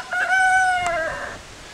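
A backyard rooster lets out a single loud, close crow, rising then drawn out, and fades to quiet near the end.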